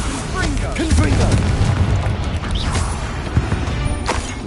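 A Confringo blasting spell explodes in the Hogwarts video game, a loud booming burst with crashing debris amid spell effects, under brief shouted voices.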